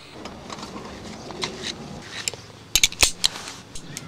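An original seatbelt in a 1962 Cadillac is buckled, producing a brief cluster of sharp metallic clicks and clacks up close after a stretch of soft rustling, with no one talking.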